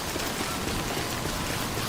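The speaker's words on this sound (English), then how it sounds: "we haven't even moved and they already have given us rain" Steady rain in the video game Death Stranding, a dense continuous hiss of falling water with droplets pattering on surfaces, even and unbroken throughout.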